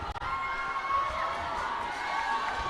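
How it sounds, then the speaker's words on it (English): A crowd cheers at a student MMA exhibition fight night at Roses 2025, a fairly faint, steady wash of voices that holds throughout. "It's lovely to still hear that support of that crowd."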